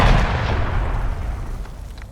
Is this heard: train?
no